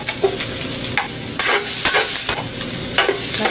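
Garlic and ginger sizzle and crackle loudly in hot oil in a pan, with bursts of frying hiss and stirring scrapes throughout.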